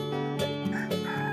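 Cartoon rooster crowing at dawn, a short, close, tonal cock-a-doodle-doo with a few rising and falling segments over a faint music bed.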